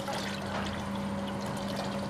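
Hot liquid candle wax at about 72 °C dripping and trickling during candle dipping in a wax-drawing workshop, a steady close pouring, dribbling wash with no talk.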